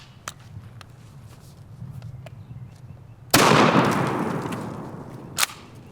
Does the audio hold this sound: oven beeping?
no